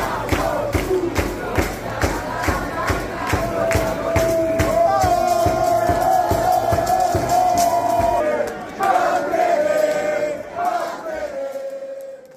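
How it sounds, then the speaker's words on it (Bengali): Crowd of protesters in Italy, Spain or France chanting anti-Israel slogans over a detained Sumud flotilla, rhythmic massed voices with steady beats and a sustained shouted tone, loud and continuous. "আন্দোলনকারীরা ইসরায়েল বিরোধী স্লোগান দিচ্ছেন"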